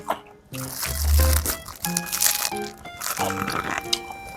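Someone bites into a Tartine Bakery sandwich on crusty bread, making a few separate, close crunching bites between quiet moments of chewing. A voice is heard faintly.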